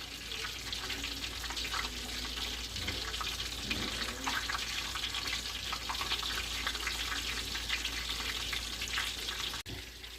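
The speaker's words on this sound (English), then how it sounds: "finish frying these chicken sandwiches" Chicken sandwiches fry in a pan with a steady, even hiss and sizzle that holds at a moderate level throughout.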